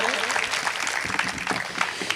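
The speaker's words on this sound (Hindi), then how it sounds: "पूरा सदन एक बार जोरदार तालियों द्वारा आदेशित करें" Applause rises from the members of a political assembly hall, a steady, dense wash of clapping with a voice briefly carrying over it.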